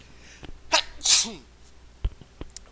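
A single sharp sneeze, close and sudden, with a quick breath before it in an otherwise quiet room.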